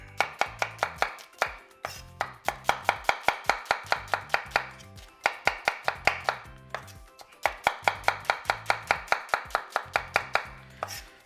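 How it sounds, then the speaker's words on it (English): A knife slices onions on a cutting board in quick, rapid bursts of crisp, evenly spaced chops, close and clear, pausing briefly between runs. "So we're going to slice these onions."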